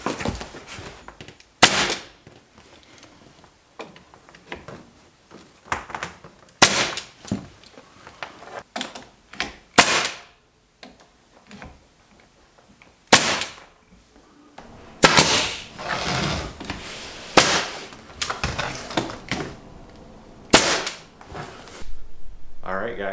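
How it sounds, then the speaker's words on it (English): A 15 gauge trim nailer fires repeatedly into wooden Victorian-style interior trim, sharp pneumatic bangs spaced irregularly every second or few, with quieter handling clatter and knocks between shots. "I've got my 15 gauge trim nailer"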